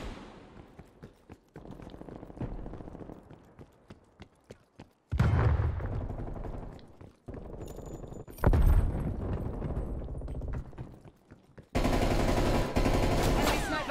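Repeated bursts of automatic gunfire in Call of Duty: Black Ops Cold War, loud rapid volleys broken by short pauses, with a sharper closing stretch of sustained fire.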